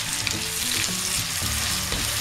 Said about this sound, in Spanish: vamos a sofreír el ajo, la cebolla. Lo movemos muy bien